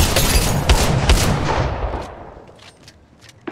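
Rapid bursts of weapon fire in the mobile battle-royale game Apex Legends Mobile, loud and close for the first two seconds, then tailing off into quieter scattered shots and a final sharp report.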